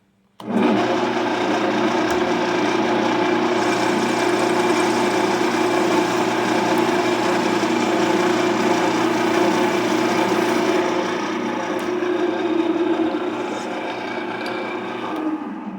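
A Shop Fox M1099 metal lathe cutting aluminum runs as a steady, loud motor whine with a tonal cutting hum, starting abruptly and holding even throughout, easing slightly near the end.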